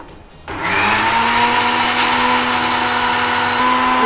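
Mixer grinder whirs on abruptly after a short quiet start, then holds a loud steady high-pitched drone while grinding ingredients for chicken sukka.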